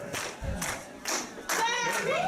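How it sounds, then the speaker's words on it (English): A wrestling arena crowd roars and shouts in loud, surging waves during a match, with the noise swelling toward the end. "Crowd cheering on Sammy Six Guns."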